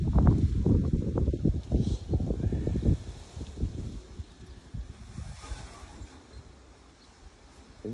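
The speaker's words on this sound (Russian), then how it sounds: "Ветер какой дурачий." Wind gusts in a park in Volgograd, buffeting the microphone with low rumbling noise that is heaviest in the first few seconds and then settles into a steadier rushing roar.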